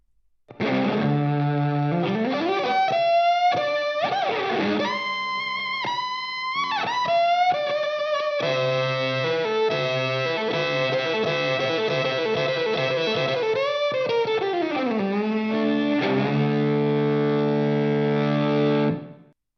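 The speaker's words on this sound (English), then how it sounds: "I'm leaving the compressor and the wah pedal off, so you're just going to hear the distortion itself." A heavily distorted, buzzy violin played through a Line 6 Helix distortion preset, with no compressor or wah, plays a gliding melody with slides and sustained notes, harsh and saturated, alone for most of the passage.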